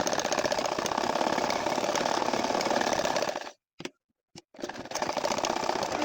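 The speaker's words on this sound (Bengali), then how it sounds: "এখন কিন্তু ওই একই ফুলের আর এক সাইডে দেখেন আমি সেলাই করে নিচ্ছি।" A sewing machine runs steadily, stitching nakshi kantha floral embroidery, with a loud close continuous whir that cuts out briefly for a pause before resuming.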